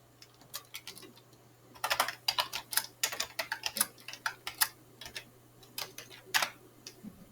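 Someone types code on a computer keyboard, a quiet run of irregular key clicks that starts sparse and grows busier, with short bursts and pauses, close by and with no talking.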